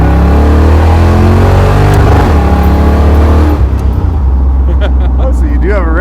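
A junkyard-block V8 swapped into a Jeep Wrangler revs loudly against a lowered rev limiter, the engine roar bouncing off the cutoff, with voices talking over the noise in the second half.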